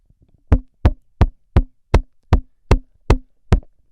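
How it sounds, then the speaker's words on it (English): Nine sharp, heavy knocks on a door land in a steady, even rhythm, loud and close with silence between them and no voices. "you can tell it's a knock by a real man"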